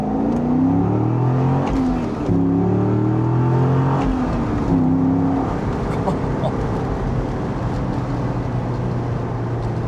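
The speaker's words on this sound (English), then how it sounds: "It sounds so deep and throaty. It's an amazing sound coming from this engine." A Chevy Corvette C6 with a 6-liter V8 revs in a deep, throaty drone, its pitch rising and falling in several sweeps while the engine stays loud and close throughout.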